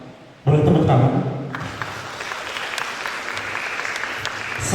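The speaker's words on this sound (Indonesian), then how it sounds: "Boleh tepuk tangan." Audience applause at a Halal Bihalal gathering, welcoming Ustadz Pardaiman Harahap before his sermon and prayer; after a quiet opening, clapping breaks out abruptly, swells loud, then continues as a steady patter from the assembled crowd.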